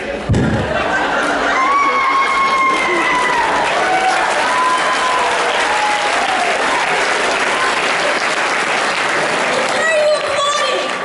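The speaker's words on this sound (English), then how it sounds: "Why are you applauding?" A cosplay contest audience applauds loudly and steadily throughout, with cheering and crowd noise mixed in and a voice speaking over the clapping near the end.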